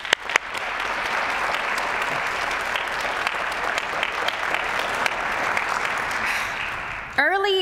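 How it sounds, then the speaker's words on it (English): At a university recognition ceremony for racialized minorities, the crowd gives student government a round of applause, a dense, even wash of many hands clapping that continues steadily until a voice cuts in at the very end. "I would like to give them a round of applause"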